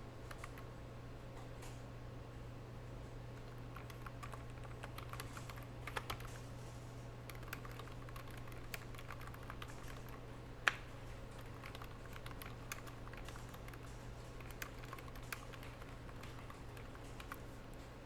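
Keys clatter in quick irregular bursts on a computer keyboard, with the odd sharper tap, over a constant low hum from a nearby fan.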